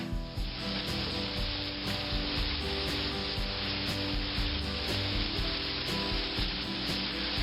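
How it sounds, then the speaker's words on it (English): Onions sizzling steadily in a hot frying pan, a dense, even crackle and hiss heard close up and without a break, with no one talking. "The onions have not been in there long, but I start them first just to get the heat working up through them to soften them"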